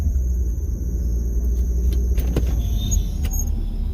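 Steady low rumble of a car's cabin while driving, a continuous engine and road drone with faint intermittent squeaks and ticks layered above.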